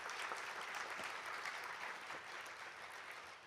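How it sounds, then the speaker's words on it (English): Steady, continuous applause from an audience at a medical school's spring awards ceremony, a dense even wash of clapping that fades slightly toward the end with no talk over it. "Let's give them a big round of applause"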